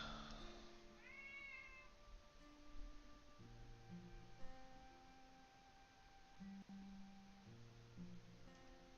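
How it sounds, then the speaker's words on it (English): A house cat lets out a short meow near the start, over a steady layered bed of tonal music and low hum. "I'll look at my cat and he goes, meow."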